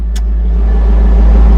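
A Corvette LS V8 with loud exhaust rumbles close and heavy, a deep steady roar that swells slightly as it revs, with no one talking.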